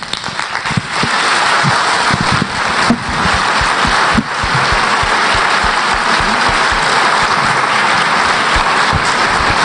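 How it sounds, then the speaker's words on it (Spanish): Sustained applause from an audience following a scientific talk on alcohol and youth, dense steady clapping filling the room from start to end with no voices above it. "Un aplauso"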